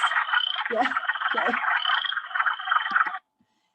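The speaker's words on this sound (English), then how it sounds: "These are the sounds of the wood frogs." A dense chorus of wood frogs croaking continuously, with a short voice speaking over it before the sound cuts off abruptly.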